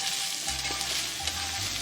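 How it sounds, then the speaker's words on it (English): Steady, close sizzling of ground turkey frying in a hot pan, a continuous crackling hiss with no talking. "it's sizzling really, really, really nice"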